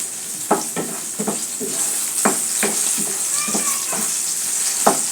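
Chopped onions fry in hot oil for a Bengali taro leaf stir-fry, giving a steady close sizzle with periodic scraping knocks as a spatula stirs the pan.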